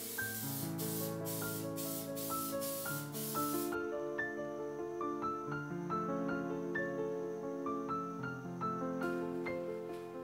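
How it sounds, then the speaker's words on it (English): Aerosol spray paint in silver or gray hisses onto a Dollar Tree item in quick repeated bursts at the start and again near the end, layered under steady melodic background music. "you can go ahead and spray paint it with a silver or gray color"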